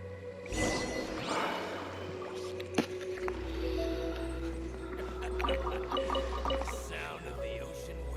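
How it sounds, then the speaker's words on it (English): Ocean waves wash steadily in the game Genshin Impact, a continuous low surge with soft splashes and watery swishes, joined by game music tones and occasional clicks. "Sound of the ocean waves."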